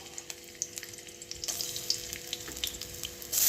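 Garlic dropped into hot oil in a wok, sizzling and crackling steadily, growing louder and busier partway through, with no talking.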